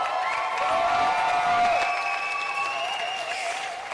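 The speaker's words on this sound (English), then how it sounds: "Round of applause for Steph." Spectators at a netball grand final between the Jets and Cougars in 2020 applaud steadily for several seconds, with a sustained tonal whine running over the clapping.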